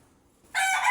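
A rooster crows loudly and close by, one sudden crow cutting in after a moment of quiet.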